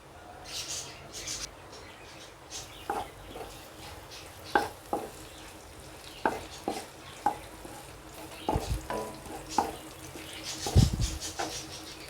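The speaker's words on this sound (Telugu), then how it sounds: "ఆనియన్స్ని బాగా ఫ్రై చేసుకోవాలి." Onions frying in about two tablespoons of oil in a pan for gongura pulao, soft sizzling under scattered stirring scrapes and clinks.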